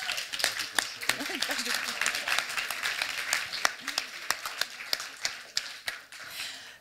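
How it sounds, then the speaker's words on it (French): A science-communication contest audience in Fribourg applauds the audience prize, with scattered, fairly close handclaps building into sustained clapping over a background of murmuring voices. "commencez par applaudir ce prix du public."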